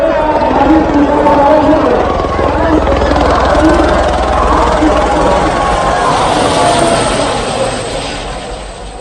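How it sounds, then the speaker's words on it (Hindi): A helicopter showering flower petals over a vast crowd of pilgrims at the Maha Kumbh in Prayagraj, its loud continuous rotor and engine roar filling the air and fading slightly toward the end. "श्रद्धालुओं पर हेलीकॉप्टर से 20 क्विंटल फूलों की वर्षा की गई"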